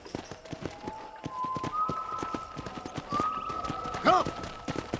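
Horse hooves clip-clop at a steady, quick rhythm while riding around a ranch property in Red Dead Redemption, with a sustained whistle-like tone and a brief whinny-like burst near the end.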